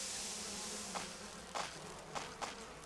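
Dense insect buzzing from swarming bees in the Resident Evil Remake fills the space, a constant hissy drone with several short louder swells and thumps as they are struck down.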